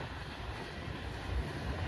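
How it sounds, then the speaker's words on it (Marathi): A passing train gives off a faint, steady low rumble along the railway track, continuous and distant, with no voices. "काय ट्रेनची रफ्तार बघा रफ्तार"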